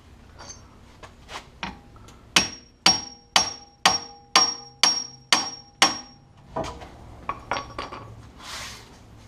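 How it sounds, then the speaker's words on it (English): Metal hammer blows strike an RX7 FC rear steer part, a steady series of about ten sharp ringing metallic hits at regular intervals, close up, with a few lighter taps before and after. "See if we can hammer the living snot out of this thing."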